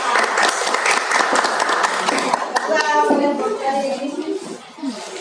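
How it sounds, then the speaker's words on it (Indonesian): A classroom of students applauds a student group after a lesson presentation, steady clapping from many hands throughout, with children's voices and talk rising over it toward the end. "sekarang beri tepuk tangan dulu untuk kelompok 2"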